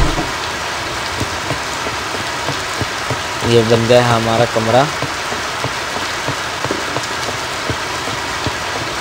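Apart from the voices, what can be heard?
rain in survival and craft video game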